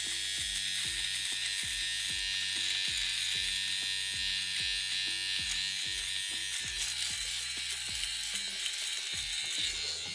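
A small electric shaver runs steadily as it shaves arm hair, a close, continuous buzzing hum with a faint rhythmic pulsing under it throughout.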